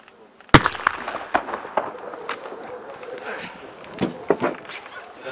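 A sharp firecracker bang at a police pyrotechnics demonstration in Radom, followed by scattered crackles, pops and clatter over several seconds, with faint voices in the background.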